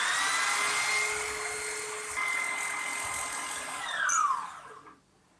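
A DIY right-angle die grinder used for two-stroke porting spins at a high, steady whine, then its pitch falls as it winds down and stops.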